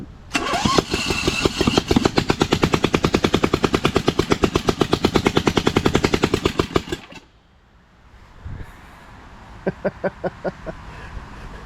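A Lesco Viper 54-inch zero-turn mower engine running with no muffler, a loud, rapid machine-gun-like stream of exhaust pops for about seven seconds, then it cuts out, followed by a few short sputtering bursts.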